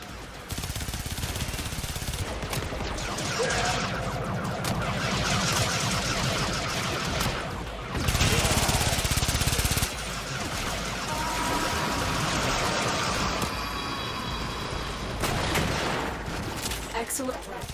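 Baza Prime gunfire in Warframe, rapid bursts of automatic shots with loud louder spurts, mixed with game sounds and a voice talking over it.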